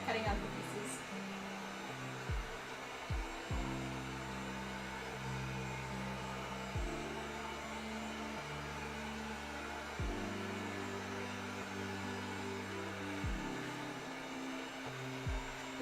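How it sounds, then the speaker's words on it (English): A heat gun blows steadily on 2mm craft foam during cosplay crafting, a continuous airy roar with a shifting low hum that changes pitch in stepped blocks as the motor speed varies, fairly constant in level throughout. "The heat gun, for the most part, only does the surface that you're applying the heat to"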